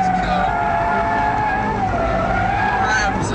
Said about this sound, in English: Grabs hold of the tarmac and launches this Focus forward.